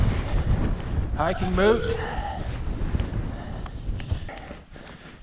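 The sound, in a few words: strong wind on a mountain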